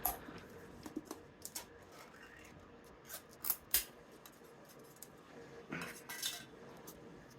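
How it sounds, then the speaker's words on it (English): A tin of Cornell & Diehl Jolly Old St. Nicholas holiday blend pipe tobacco being opened, with quiet metallic clicks, scrapes and a few sharper pops of the lid, close and intermittent. "So let's get this tin opened."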